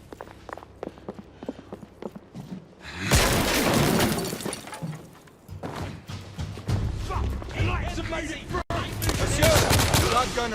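Gunfire during a firefight with rebels around a building in The Order: 1886, with dense bursts of shots and impacts rising sharply after a quieter opening and staying loud and busy, mixed with crashing debris and the distant shouts of people.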